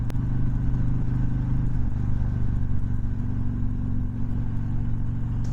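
A Harley-Davidson Freewheeler FLRT trike rides through a couple of curves, its engine a steady, loud low rumble that holds throughout with no talking.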